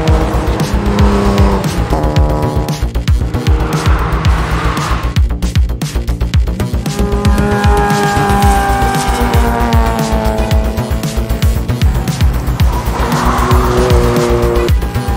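Mazda RX8, RX7 and MX5 race cars lapping the Serres circuit, loud engines revving hard through gear changes with repeated tire squeal and skidding, close and continuous.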